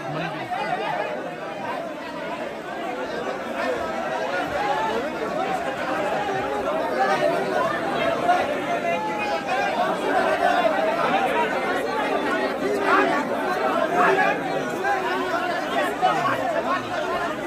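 Dense crowd of devotees chattering inside a temple sanctum during darshan, a steady close hubbub of many overlapping voices with no pauses.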